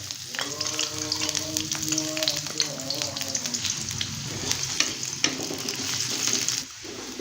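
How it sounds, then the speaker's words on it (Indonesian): Six shallots sauté in hot oil, a dense close sizzle with bursts of crackling and spatter that settles into a steady fry before a brief dip near the end, with no talking. "Minyaknya sudah panas, akan saya tumis terlebih dahulu 6 siung bawang merah."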